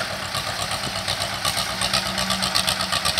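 An Escort 335 tractor engine drones steadily while pulling a 7x7 harrow through a field, a continuous loud mid-pitched rumble with a rhythmic knocking pulse and no talk.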